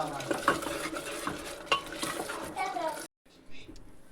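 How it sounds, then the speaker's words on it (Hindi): Tomatoes frying in a pan with a steady sizzle while a utensil stirs and scrapes, clattering against the cookware; the sound breaks off abruptly near the end before faint clinks resume. "तो यहाँ पर टमाटर भुने जा रहे अच्छा"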